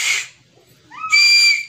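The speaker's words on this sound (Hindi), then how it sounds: "देखें कैसी बज रही है सीटी" A homemade whistle is blown twice, close and loud: a brief airy shriek, a pause, then a longer sustained pitched tone that slides up slightly.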